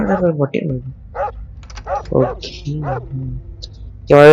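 Steady talking fills most of the moment, then a single loud, close dog bark from a video game breaks in right at the end.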